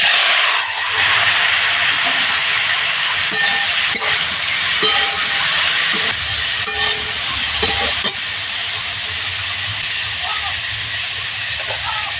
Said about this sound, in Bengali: কপিগুলো ভেজে নিচ্ছি।